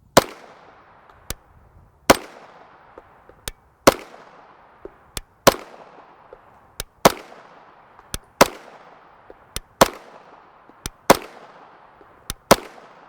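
Outdoor pistol fire from 9x19mm 124gr FMJ rounds, with sharp single shots spaced about a second apart over the whole stretch, each cracking loudly and trailing off in a short echo.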